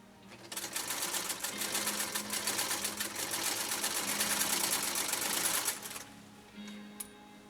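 A Singer 192K Spartan sewing machine stitches through two layers of compressed felt, a fast, even rattling run for about five seconds that stops abruptly, followed by a brief quieter whir and a faint click.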